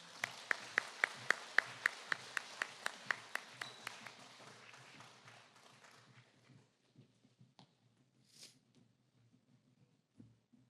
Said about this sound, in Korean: 학생들을 큰 박수로 맞이해 주십시오